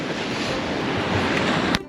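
Broad roar of surf as waves break close by at a floating bridge in Varkala, steady and loud, with wind rushing across the microphone.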